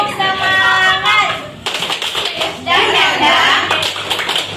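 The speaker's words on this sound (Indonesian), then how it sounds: "Tepuk semangat." A group of people clap out a rhythmic spirit cheer at a teachers' workshop, loud bursts with voices calling out between and over the claps.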